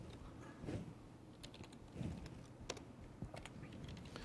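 Typing on a computer keyboard during a tech demo, a quiet run of irregular key clicks and taps in small bursts, close up with no talk over it.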